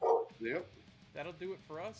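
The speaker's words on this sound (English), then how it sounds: "What kind of dog? Yellow lab." A yellow Labrador barks a few times nearby, short sharp woofs spaced apart, while someone speaks briefly over them.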